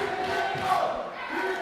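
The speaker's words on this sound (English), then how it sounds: "The crowd in the Kingsway Hall have come alive now for this match" An excited crowd in the Kingsway Hall roars and cheers during an SOS Championship match, a sustained, dense wall of voices that swells and then eases slightly.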